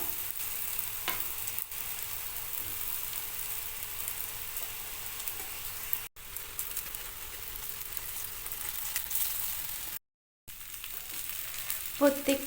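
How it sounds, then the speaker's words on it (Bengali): Bread rolls filled with potato and mozzarella cheese shallow-fry in oil. A low, steady sizzle runs throughout with faint crackles and occasional handling clicks, and it breaks off briefly near the end. "আজকের আর ডিপ ফ্রাই করবো না, স্যালো ফ্রাই করেই দেখাবো।"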